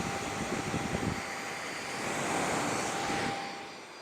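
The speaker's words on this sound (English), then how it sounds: "That is the quietest motor I've ever come across" The motor of a Vevor 3-13 mm drill bit sharpener runs continuously with the microphone pressed right against it, producing a smooth, steady whooshing hum with no other sounds over it.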